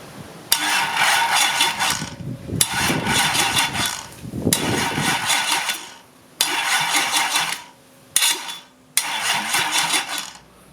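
An engine, fixed after a starting fault, turns over in repeated loud cranking bursts of a couple of seconds each, broken by brief pauses and clicks, close up.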